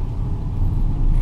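A manual car accelerates during a student driving lesson, its engine holding a steady, loud low drone that swells slightly toward the end, with no talk over it.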